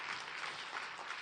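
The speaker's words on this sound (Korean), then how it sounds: "수요예배를 잘 섬겼던 우리 분들 한번 박수로 한번 격려해 주시면 좋겠습니다" A church congregation at a Wednesday evening worship service applauds to encourage the volunteer teams, a dense, even wash of clapping from a full room that carries on steadily throughout.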